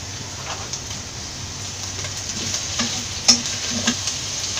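Green chillies and curry leaves dropped into a pan of vegetables for Kerala-style mutton stew, giving a steady hissing sizzle with a few light stirring taps and one sharper clink midway, close and without talk.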